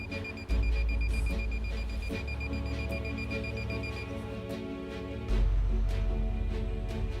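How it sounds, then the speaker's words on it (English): A RIVER G 3 deep underground water detector emits steady intermittent electronic beeps, repeating evenly over a low hum, clear and fairly close. "making an intermittent beep."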